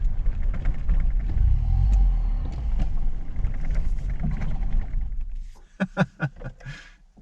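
An old car run again after 20 years sitting in a paddock, its engine giving a loud, rough, roaring rumble with wind buffeting the microphone, before it drops away and someone speaks at the end.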